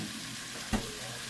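Tortellini and sausage simmering in a single pot, a low steady sizzle with one short clink of a utensil midway.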